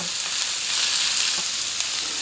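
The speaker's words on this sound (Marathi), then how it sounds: "आपल्याला कांदा छान सोनेरी रंग येईपर्यंत परतून घ्यायचा आहे" Onion sautéing in a pan for paneer gravy gives a dense, even sizzle with faint stirring, close and constant for a couple of seconds.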